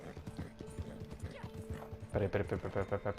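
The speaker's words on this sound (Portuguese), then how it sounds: "O bicho tá dando umas fungadas aqui que tá louco" Horse in the Red Dead Redemption 2 video game, its hooves clip-clopping in a steady rhythm with snorting breaths, growing louder near the end while someone talks over it.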